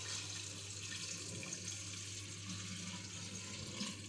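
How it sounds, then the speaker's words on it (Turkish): Measured drinking water pours into a jar for homemade vinegar, a steady, soft, continuous trickle and splash under a low hum, with no talking. "Şimdi ölçerek suyumuzu ekleyelim."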